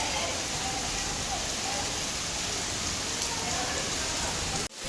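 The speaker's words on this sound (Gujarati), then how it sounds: "અહીંયા જોરદાર વરસાદ છે ચાંગોદરમાં અમારે." Heavy monsoon rain pours down in Changodar, Ahmedabad, a dense, unbroken roar of drops striking surfaces nearby, loud and steady until a brief dip at the very end.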